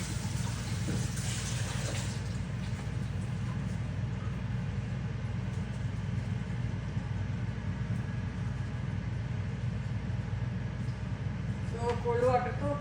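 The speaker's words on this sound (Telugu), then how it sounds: "కోల్డ్ వాటర్తో ఒకసారి వాష్ చేసుకోవాలి." Cold water runs steadily over boiled noodles in a strainer as a continuous broadband rush, with a voice talking over it.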